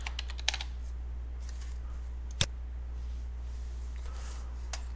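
Computer keyboard typing in short bursts of light clicks with a sharper key tap near the middle, close and fairly quiet over a steady low electrical hum, with no talking.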